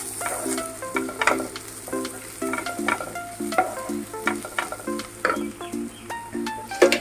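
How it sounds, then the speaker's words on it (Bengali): Ginger sautéing in a pan with turmeric and Kashmiri chilli powder, a steady sizzle punctuated by rhythmic clinking strokes of a spatula against the pan, close and alone. "তো আবারও ভালো করে কষিয়ে নেবো, না আদাটা কাঁচা না থাকে।"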